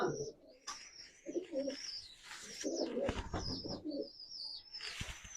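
Pigeons coo softly in repeated low burbling phrases, with a few chirps and quiet voices nearby.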